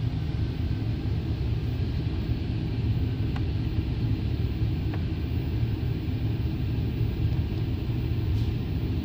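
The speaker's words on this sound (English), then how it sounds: "And the vehicle is running right now." A Buick Riviera engine runs at idle with a steady, continuous low rumble and hum from close by, unbroken throughout, with no talking.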